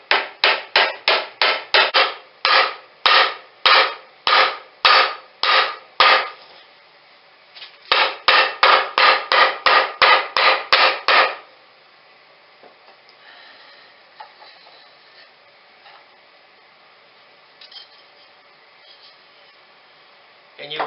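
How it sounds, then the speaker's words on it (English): Mallet pounding on a wooden dowel while fitting a K-cup coffee holder: two fast runs of about a dozen sharp, evenly spaced knocks each, loud and close, followed by quieter scraping and handling. "pounding on the dowel itself."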